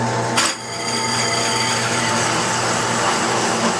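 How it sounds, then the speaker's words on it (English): A steady mechanical whir of a drill press with a cup saw cutting aluminum, loud and continuous after a brief knock at the start, with no talking. "turn the drill press on. We're going to cut it."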